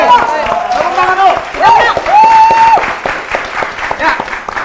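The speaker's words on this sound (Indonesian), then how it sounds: "Tepuk tangan dulu." Studio audience at an Indonesian quiz show applauding, a dense patter of clapping mixed with a tonal musical sting and crowd noise, fairly loud and steady throughout.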